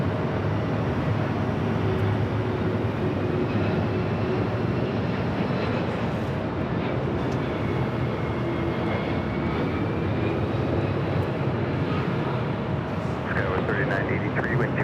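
United Boeing 777 airliner at LAX airport, a loud steady jet engine roar filling the whole stretch, with faint tonal whine and background talk mixed in.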